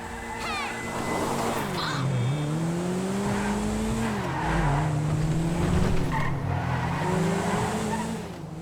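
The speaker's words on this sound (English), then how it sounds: "There's the zingy sort of note from the four-cylinder engine like you might expect" A Karin Futo four-cylinder car engine in GTA rises and falls in pitch through gear changes with tire squeal, loud and close, running continuously.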